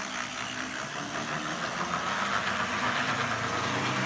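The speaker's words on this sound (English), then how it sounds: "It's got some gear noise." An Athearn GP9 HO-scale model locomotive with a 1957-design chassis runs along a layout track, giving off a steady whirring motor hum and grinding gear noise at close range.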